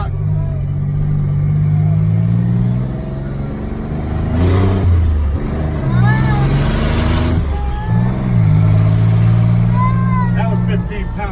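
A boosted engine revs at about half throttle and roughly 1,500 RPM while driving around the block, a loud steady drone that rises and dips in pitch several times with turbo whine, no talk.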